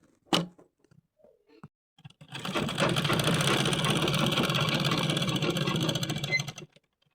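An electric sewing machine hums and clatters steadily for about four seconds, stitching along a petticoat waistband, after a few faint handling clicks at the start.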